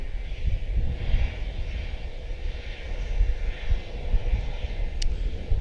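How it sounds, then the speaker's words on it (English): A WestJet airliner from Calgary rumbles at Washington Dulles airport, a steady, moderately distant engine roar with slow swells in loudness. "WestJet out of Calgary."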